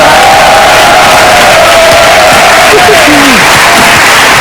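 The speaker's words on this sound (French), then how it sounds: "Applaudissez-la" Audience on a 2003 French TV show applauding a performer, a loud continuous roar of clapping and cheering with whoops and shouts rising through it.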